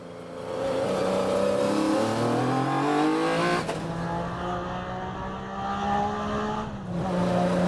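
A Metro 6R4 rally car engine revs up and eases off repeatedly, rising and falling pitch as the throttle opens and closes, loud and close.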